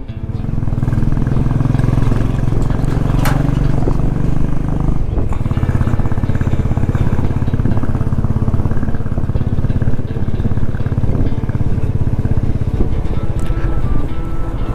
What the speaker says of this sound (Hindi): बर्फ में बाइक चलाना काफी कठिन होता है वैसे